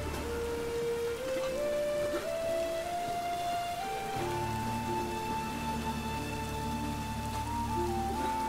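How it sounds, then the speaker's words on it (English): Steady rain falls in the video game The Witcher 3, a constant hiss under a rising musical tone that builds and thickens halfway through. "It's raining again."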